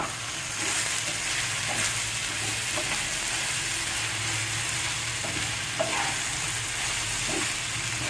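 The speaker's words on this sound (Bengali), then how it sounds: "একটু ঢেকে ঢেকে আমি ভাজবো" Chowabin minced meat frying in a covered pan: a steady, even sizzle fills the whole stretch, with occasional faint pops and stirring clicks.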